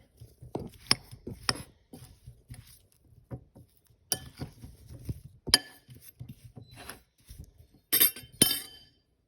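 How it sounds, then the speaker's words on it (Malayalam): A spoon clinks sharply against a glass bowl while cornflour is stirred into paneer for restaurant-style chilli paneer, giving scattered taps and scrapes, faint and irregular. "ഇനി നമുക്ക് ഇത് നന്നായിട്ട് ഒരു സ്പൂൺ ഉപയോഗിച്ച് ഒന്ന് ഇളക്കി യോജിപ്പിച്ചെടുക്കണം"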